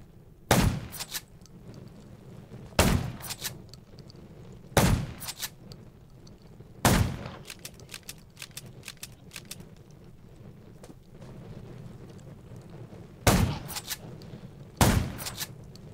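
Gunfire sounds in the zombie survival video game Undawn: loud, close single shots come at intervals of about two seconds, with a gap and then two more shots near the end. A low steady background hum runs underneath.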